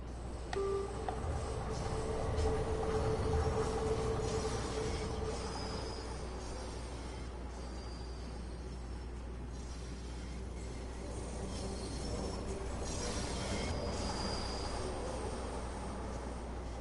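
London Underground 1972 tube stock train, seven carriages in a 4+3 formation, running in Train Sim World 5: a steady, low, droning rumble with faint tonal whines above it and no voices.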